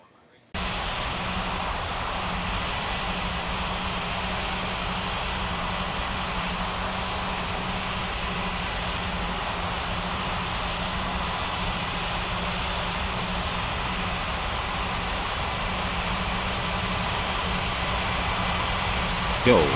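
A fixed-wing airplane on runway 36 at the start of its takeoff roll gives a loud, continuous engine roar, steady and unchanging throughout with no clear rise in pitch.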